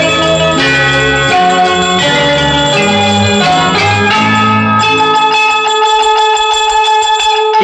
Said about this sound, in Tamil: கிண்கிணி கிண்கிணி கிணி கிணி கிணி என வரும் மாதா கோயில் மணியோசை